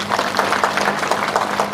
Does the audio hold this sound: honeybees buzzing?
no